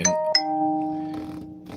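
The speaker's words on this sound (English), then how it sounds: "there's a lot of notifications going off" Notification alerts chime during a busy live stream, two bright ding tones close together at the start with ringing tails that hang on, then softer chimes near the end, with no talk.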